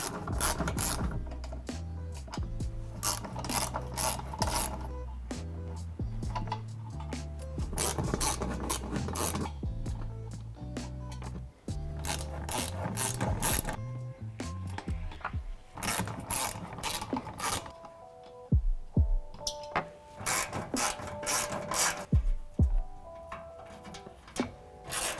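Ratchet wrench removing 10mm screws from the splash guard under a Toyota 4Runner bumper, with rapid clicking runs of the pawl and brief breaks between turns, close and clear.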